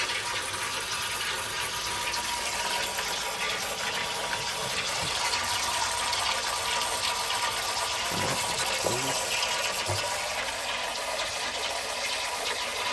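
Restored 1950s Athenium toilet cistern in a shed flushing and refilling: a steady, dense rush of water filling the tank runs throughout, close and even, with a few faint knocks near the end.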